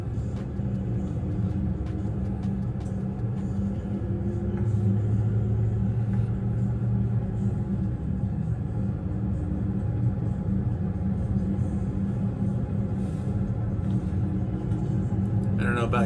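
A car driving around Paso Robles, heard as a steady low rumble of engine and road noise that carries through the whole stretch with no breaks.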